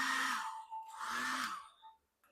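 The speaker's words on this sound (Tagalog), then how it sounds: "painitin lang natin to ng blower" Handheld blower heating the plastic parts of a Yolopark Evangelion Test Type 01 AMK Pro action figure to loosen the pegs: two close, steady whirring bursts with a high motor whine, stopping and starting.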